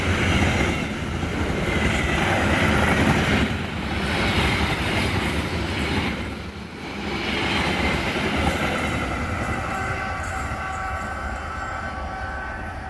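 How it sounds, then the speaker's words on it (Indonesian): A train passes through a station near Surabaya heading from east to west, a loud continuous rumble of wheels and rail clatter with rhythmic surges as carriages roll by, close and sustained throughout. "ada kereta yang lewat pemirsa dari arah timur ke barat"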